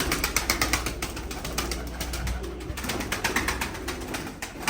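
Pigeons coo softly amid a busy flock, with rhythmic low calls and occasional wing flutters over a constant background rumble.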